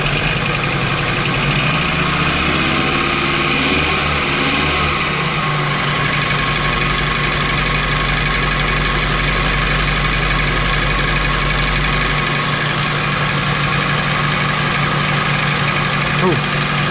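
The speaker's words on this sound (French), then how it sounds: "Sinon on entend qu'il prend très bien les tours et au-dessus de 3000 il n'y a aucun problème." A Volkswagen T4 with the 2.5 AAF five-cylinder engine runs steadily and loudly throughout, revving up early and then holding a constant drone with a deep low rumble, no voices over it.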